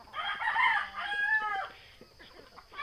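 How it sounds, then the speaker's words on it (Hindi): A rooster crows once on a backyard desi Sonali poultry farm, the harmonic call rising and trailing off, followed by faint clucks and scratching sounds from the flock. "हमारा मुर्गा जो है कि बीच बीच में बोल लेता है।"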